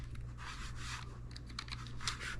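Short burst of quiet typing on a computer keyboard, a few soft, close key clicks over a steady low electrical hum while labeling a fig tree cutting pot.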